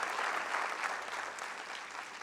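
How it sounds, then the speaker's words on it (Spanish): A church congregation gives a dense, steady burst of applause, fairly even and moderately loud throughout the short stretch, with no talking over it. "dele fuerte ese aplauso a nuestro Dios."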